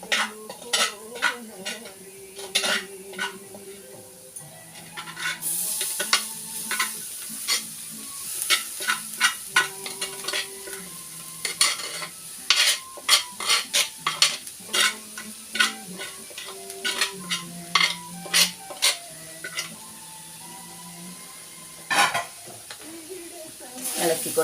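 Masala and cooked clam meat fry in a pan with a steady sizzle, punctuated by frequent sharp clinks and scrapes of a spoon stirring against the metal.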